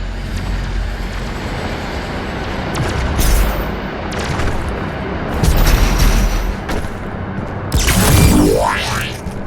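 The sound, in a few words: BFG 10,000 cannon firing in video game Doom Eternal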